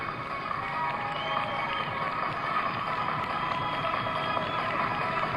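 Spectators at the 2004 AirPower Over Hampton Roads air show applaud and cheer US Army Golden Knights parachute jumpers overhead, a steady, broad wash of crowd noise that holds at an even level throughout.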